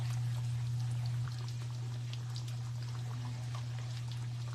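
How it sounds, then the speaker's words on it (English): Tomato sauce pours steadily into pasta in a kitchen, making a soft continuous trickling over a loud steady hum. No one talks. "I'm going to add a little bit more of my tomato sauce."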